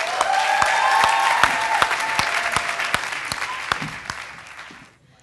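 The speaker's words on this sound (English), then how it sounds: "Could you give them a round of applause?" A large audience at a university college anniversary ceremony claps steadily and loudly for several seconds, with a few sharp individual claps standing out before the applause fades away.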